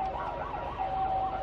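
An ambulance siren wails in a steady rising-and-falling pattern, moderately distant over low traffic rumble on icy roads in Sapporo, the ambulance fitted with tire chains, no voices.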